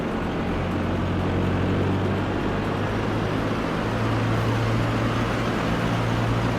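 A light aircraft engine in Flight Simulator X runs up to 1700 rpm at the Roland Garros aeroclub on Réunion Island. It gives a loud, steady droning hum that rises slightly in pitch partway through, with no voices.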